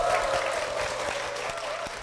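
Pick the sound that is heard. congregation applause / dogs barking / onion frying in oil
congregation applause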